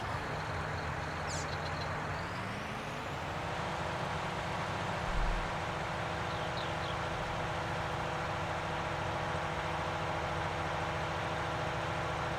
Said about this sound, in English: I'm gonna get this tractor out of the way.